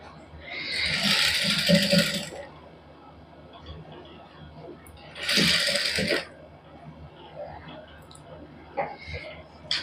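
A sewing machine stitching fabric for a boutique neckline design runs in two loud, close bursts of rapid whirring, separated by quieter clicks and handling noise, with someone talking between them.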